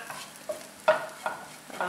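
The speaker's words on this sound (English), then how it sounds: "I've taken out part of my fried brinjal or bangan slices. Some are still in the frying pan" Brinjal (eggplant) slices fry in a frying pan, giving a soft, steady sizzle broken by a few brief stirring scrapes, fairly quiet and close with no talking.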